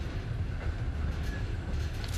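A Trans-Siberian Railroad train runs on, heard from inside as a steady, loud, low rumble with a broad hiss of rolling noise, even and unbroken throughout, with no talking.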